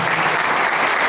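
Audience applause at a book launch in a hall, welcoming the guest author; dense, steady clapping fills the whole brief moment, loud and close.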